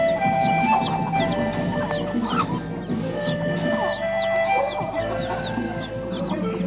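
Free-ranging chickens on a rural Lao-Thai homestead cluck busily in many short, overlapping calls, near and lively, with people talking in the background.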